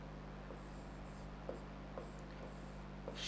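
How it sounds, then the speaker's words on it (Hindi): Chalk or marker writing out a Sanskrit grammar sutra on a board, with short intermittent scratchy strokes spaced about half a second apart over a steady low room hum, faint and with no talking. "सूत्र लिख रहा हूं मैं"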